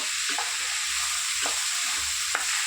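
Spoon stirs salted cucumber and dried fish curry in a hot pan, with a steady sizzle under a few scraping strokes, close and continuous.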